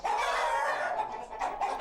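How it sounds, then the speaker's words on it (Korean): A fighting cock on a breeding farm outside Bangkok in Nonthaburi, Thailand, crows and clucks loudly and close by in a steady run of calls, with no one talking. "방콕시 외곽 논타부리 지역의 싸움닭 사육장"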